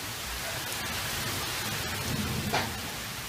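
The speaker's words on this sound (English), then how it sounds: "All them little raindrops." Rain falls steadily into an outdoor pond, a dense continuous patter and hiss of many small drops hitting water, fairly faint and unbroken, with no voices.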